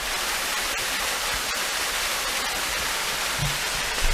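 Steady broadband rush of a modest, crowded tourist waterfall, loud and continuous throughout with no clear voices, a faint low thump near the end.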